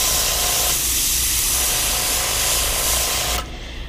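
A steady, close aerosol spray hisses continuously for several seconds while painting a Whopper Plopper fishing lure, then cuts off abruptly near the end, leaving a quieter background.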